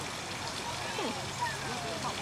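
Steady rushing water from a waterfall at a zoo pours continuously, a soft even roar with no clear breaks.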